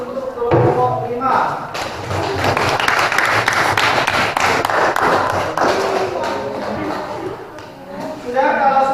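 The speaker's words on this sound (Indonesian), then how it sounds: "Kita kasih aplaus untuk kelompok 5" A classroom applauds group 5 with a burst of clapping and tapping that swells in the middle and runs for several seconds, mixed with voices and chatter.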